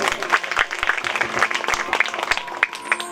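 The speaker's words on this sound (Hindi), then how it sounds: "एक बार आप सभी अपने लिए भी जोरदार ताली की सेवा करें" A crowd at a religious discourse claps in enthusiastic, dense applause that carries on steadily, with sharp individual claps standing out.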